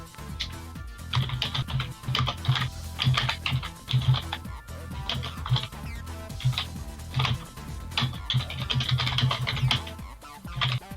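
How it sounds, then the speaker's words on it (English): Loud, clattery typing on a computer keyboard, a rapid run of keystrokes continuing throughout with short pauses between bursts. "He types on his excessively loud keyboard"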